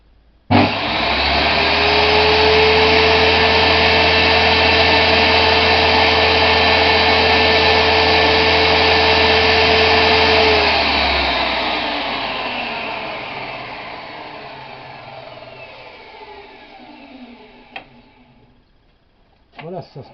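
A lathe starts up and runs while cutting a part, giving a loud, steady motor hum with a whining tone. After about ten seconds it winds down and fades, ending with a few faint clicks.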